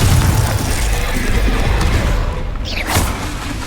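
Glacius and Confringo spells cast in the video game Hogwarts Legacy, a dense rumbling wash of low booms and bursts with a bright crackling blast near the end, played continuously under the action.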